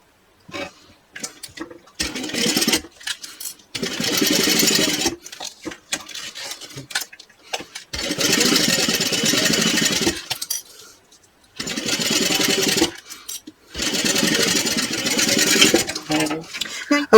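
A sewing machine bastes across the top of a fabric bag at an eighth-inch seam, running in several separate bursts of steady whirring, each a few seconds long, with short quiet pauses between them.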